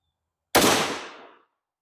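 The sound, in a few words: 350 Legend CVA Scout rifle shots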